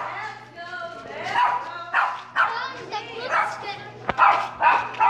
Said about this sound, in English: The dog here.